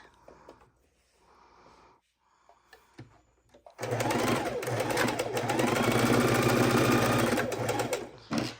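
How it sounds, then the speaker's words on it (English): A sewing machine runs steadily and loudly for several seconds, stitching fabric, after a few quiet moments of handling noise, then stops near the end. "I'm just going to take it under the sewing needle like so, and I am going to sew it."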